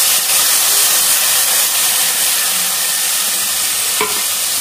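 A paste of leafy greens fries with cumin in a pan, making a dense, loud, continuous hiss and sizzle close by, with one faint clink near the end and no voices.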